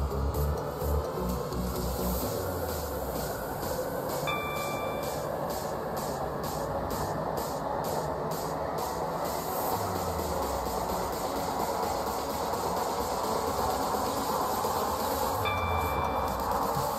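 A train runs in the video game Stepford County Railway, a steady rumble with rhythmic clacking and a rising motor whine, plus two short electronic chimes, with no one speaking.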